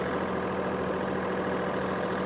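A John Deere 3R compact tractor rigged to run a box blade idles steadily, its engine giving an even, continuous rumble close by with no break or change in pitch and no voices.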